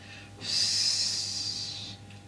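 A single long, forceful exhale through the nose or mouth during a Pilates exercise, close and breathy, lasting about a second and a half over a faint room hum.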